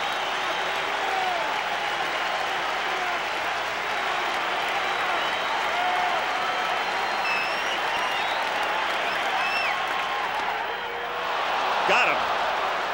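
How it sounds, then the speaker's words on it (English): A packed baseball stadium crowd roars and applauds during NLCS Game 7 between the New York Mets and Los Angeles Dodgers, a dense, sustained wall of cheering with a commentator speaking over it. "The crowd going wild."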